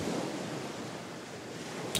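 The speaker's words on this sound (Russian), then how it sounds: "вы ощущаете движение морских волн, которые приходят и уходят" Sea waves washing in and out in a steady, close, unbroken roar of surf, with no voices.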